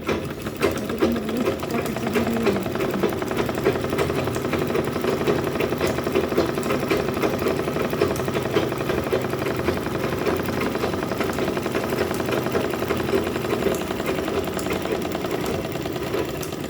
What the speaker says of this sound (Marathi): चारी बाजूने पण स्टिच करून घ्यायचं